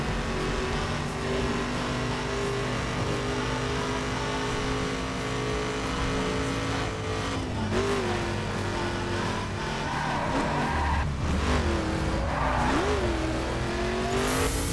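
Race cars roar steadily in the video game The Crew, engine drone holding at a constant loud pitch with revving swells and occasional tire squeal late in the run.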